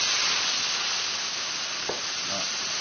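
Soy sauce splashed into a hot pot to deglaze it, producing a soft, steady sizzle and hiss with one brief sharp crackle partway through.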